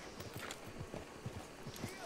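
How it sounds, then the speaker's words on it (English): Horse hooves clip-clop across the ground in Red Dead Redemption 2, a Kentucky Saddler among the horses, as a steady rhythm of soft, muffled footfalls under a background hum, with talk mixed in. "There were horses here, and then there were not horses here, and then there were horses here again."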